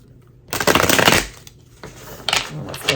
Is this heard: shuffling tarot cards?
yes